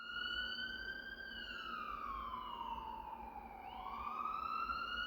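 A wailing police siren rises and falls in long slow sweeps, steady and fairly loud against a low rumbling background, with no voices.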